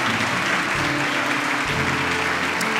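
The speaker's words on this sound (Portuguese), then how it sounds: "Você pode dar uma salva de palmas ao Senhor." A church congregation claps in praise to the Lord, a loud, dense, continuous wall of applause that stays even for the whole short stretch.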